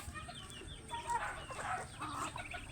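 Farmyard chickens cluck softly at feeding time, a few short quiet clucks and murmurs close by with light rustling.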